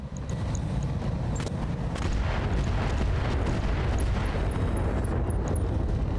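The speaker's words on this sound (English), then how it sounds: "Ammo explosion on the MHI" Ammo explosion on a mech in the BattleTech RogueTech mod, a dense rumbling roar of continuous blasts and crackling bursts that holds loud and steady for several seconds.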